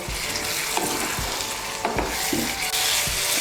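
Potatoes and peas sautéed in a pan, with loud close frying sizzle and rhythmic scraping strokes of a spoon stirring, no voices.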